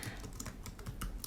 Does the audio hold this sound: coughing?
no